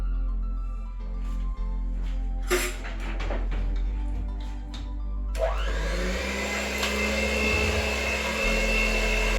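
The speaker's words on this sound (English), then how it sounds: "Then after we have the butter, we're going to go ahead and mix again." An electric mixer beating sweet potato pudding batter with butter, first a few knocks and clatters, then the motor whirring up into a loud steady drone close by.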